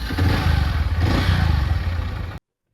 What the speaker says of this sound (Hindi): तो मैं यहाँ से अपनी बाइक स्टार्ट करता हूँ